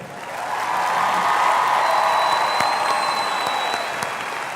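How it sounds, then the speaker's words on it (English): A large audience applauds the Martin High School class of 2026 at a formal graduation ceremony, steady and even clapping building within the first second and holding for several seconds, with faint crowd murmur underneath. "please give a round of applause for the Martin High School class of 2026"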